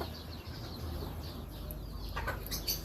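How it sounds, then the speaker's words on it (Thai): A home-bred chicken gives a few brief clucks and calls, fairly faint and set against steady background noise, with no talking. "ตัวนี้ไก่ที่ผมผลิตขึ้นมาเองนะครับ"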